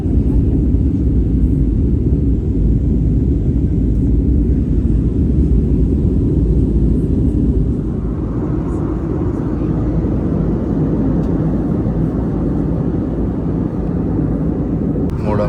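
Cabin noise aboard a KM Malta Airlines flight before dawn: a loud, steady, broadband engine and air drone fills the whole stretch, easing slightly partway through.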